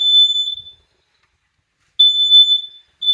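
A smoke alarm gives loud, shrill high-pitched beeps: one long beep, a pause of about a second, then another long beep and the start of a third.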